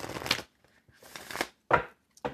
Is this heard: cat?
no